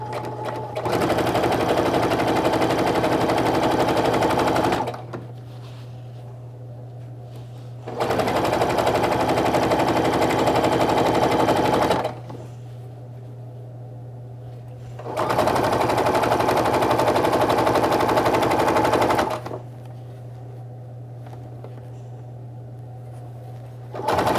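Quilt block fabric pieces being stitched on a sewing machine, fed through without pins: three loud, steady bursts of whirring motor hum, each a few seconds long, separated by quieter pauses.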